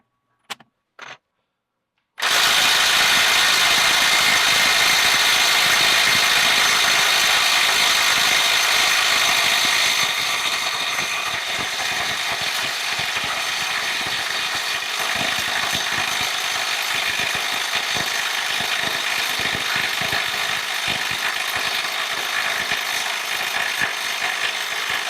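Snap-on Stubby CT9038 18V cordless impact wrench running in mode 3 at 400 foot-pounds, a couple of quick clicks, then a loud continuous hammering rattle lasting over twenty seconds that eases slightly in pitch midway.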